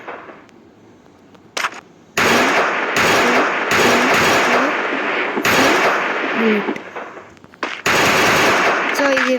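Loud automatic bursts of Evo gun fire in the Free Fire shooter game during a damage test, several long rapid-fire volleys separated by short pauses, close and punchy, with a voice speaking briefly between.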